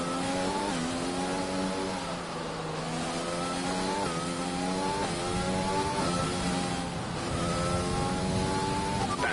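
A Formula 1 car in the racing game F1 2020 howls through repeated rising gear pulls, its engine whine climbing and dropping with each shift as it laps the Australian Grand Prix late in the race.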